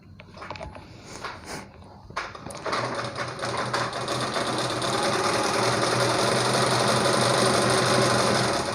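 A 4-in-1 pico and zig zag sewing machine starts with a few short bursts, then runs steadily and loudly, its fast rhythmic stitching holding to the end with no talk over it.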